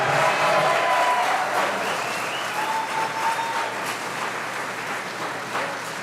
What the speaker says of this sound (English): Now please applaud your candidates.